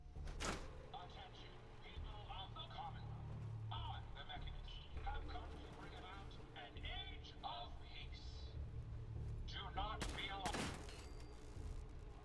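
Gunfire in the game Fallout 4, Automatron add-on: a few sharp shots, one near the start and a quick pair near the end, heard among steady game ambience and frequent spoken dialogue.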